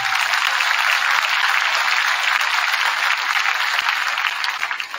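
Audience applause fills a football championship celebration, a loud, dense wash of clapping that runs steadily for several seconds before tapering slightly at the end, with no talk over it.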